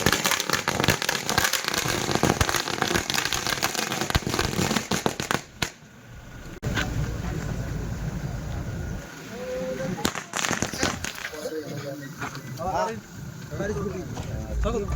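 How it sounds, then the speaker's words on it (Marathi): Firecrackers and fireworks burst at an outdoor by-election victory celebration in Rahuri, with dense crackling volleys and sharp pops in loud clusters, broken by short lulls, while a crowd talks and shouts throughout. "ढोल ताशांच्या गजरात आणि फटाक्यांची आतिषबाजी करत विजयाचे संकेत साजरे होताना दिसत आहेत."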